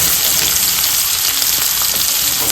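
Chopped onion frying in hot oil, a loud continuous close-up sizzle with a dense steady crackle throughout and no voices.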